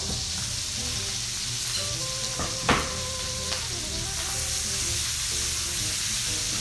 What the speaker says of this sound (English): I'm going to add our sausage. And I'm going to fry it up real nice.